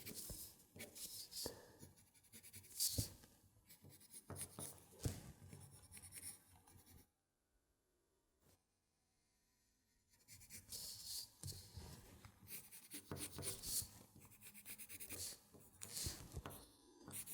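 A pencil sketching a rough outline by hand on paper, close and quiet, with scratchy strokes in quick bursts, a silent pause midway, then more strokes.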